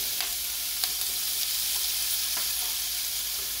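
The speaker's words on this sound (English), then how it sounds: "now I'm going to add my mirepoix to the pot. I'm just going to saute this just for a couple minutes." Mirepoix vegetables sautéing in a pot used for beef short ribs: a dense, even sizzle fills the short stretch, with a few faint ticks of movement and no voices.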